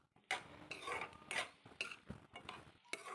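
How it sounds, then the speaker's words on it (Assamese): Two packets of Maggi noodles being stirred in oil in a pan, with repeated scraping and clinking of a utensil against the metal in short, uneven strokes, close and fairly quiet. "মেগী 2 পেকেট দি কিনি ভালকৈ লৰাই দিছোঁ।"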